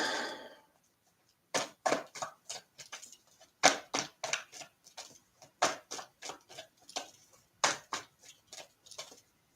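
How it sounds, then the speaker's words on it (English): Tarot cards being shuffled in quick riffles and taps, a rapid series of crisp, close slaps and flutters in uneven bursts, with no talking. "I'm really bad at shuffling right now."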